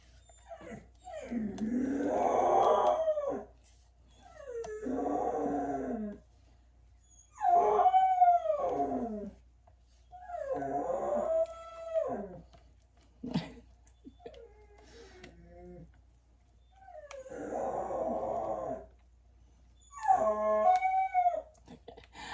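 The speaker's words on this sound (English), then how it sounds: "She is actually a dog." A dog howls in about seven long, wavering bouts separated by short silences, close and fairly loud, with no talk.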